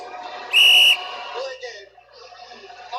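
A single loud, sharp whistle blast lasting under half a second cuts through a Bengals vs Chiefs NFL playoff football broadcast, set against steady crowd and broadcast background noise with voices talking around it.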